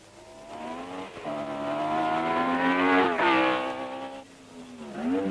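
Race cars at the Rouen Grand Prix in France accelerating past the pits, engine notes climbing in pitch through gear changes as they sweep by, rising then easing off before another car approaches.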